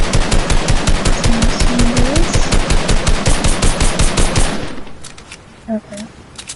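Rapid, rhythmic blasts from a legendary shotgun in a console shooter game, loud and close for several seconds before stopping, followed by quieter in-game sounds.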